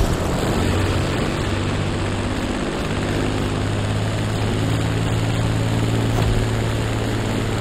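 Propeller airplane in flight in The Crew Motorfest racing game, a steady continuous engine drone with a low hum and airy rush throughout, with no talking.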